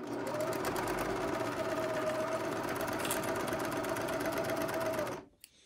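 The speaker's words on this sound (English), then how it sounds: "So I'm gonna sew this end down." A sewing machine runs steadily for about five seconds, stitching down the short end of a robe, then stops abruptly. Its even mechanical whir stays close and constant throughout.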